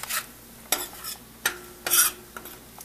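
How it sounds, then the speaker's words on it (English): Besan gram flour is roasted in a pan and stirred in short bursts, dry scraping strokes of a spoon with light clinks against the metal, several separate strokes over a faint background, close up, no talking. "roast it for few seconds. So this besan gram flour, it becomes just little bit gold brown."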